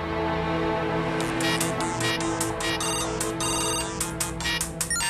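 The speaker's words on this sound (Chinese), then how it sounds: "电话又打过来" A phone ringtone plays loud and close, a bright electronic melody of repeated short chiming notes over a steady electronic tone, with no one talking.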